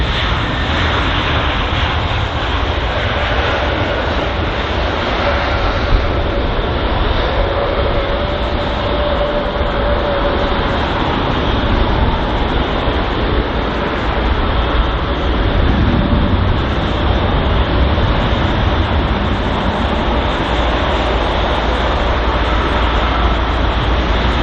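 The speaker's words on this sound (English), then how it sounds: "So the Emirates A380 on the move now." An Emirates Airbus A380 taxis at London Heathrow Airport, its engines giving a steady, loud, broad roar that holds throughout with little change in level.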